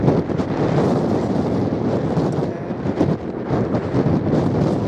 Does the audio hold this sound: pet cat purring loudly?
no